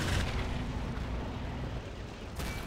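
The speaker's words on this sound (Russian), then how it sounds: "45-миллиметровая пушка М42 ведет огонь" A 45 mm M42 anti-tank gun fires in the video game Behind Enemy Lines 2, a heavy blast rolling into a sustained low rumble, with a fresh sharp burst near the end.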